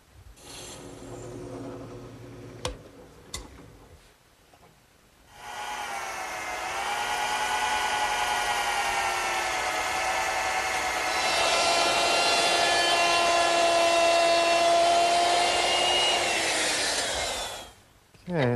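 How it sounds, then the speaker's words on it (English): A power drill bores pilot holes in wood for an iron dowel screw joining a child's wagon handle to its shaft. After a few faint knocks comes one sustained, close, whining grind of about twelve seconds, then it stops. "So I'm going to have to drill a couple pilot holes."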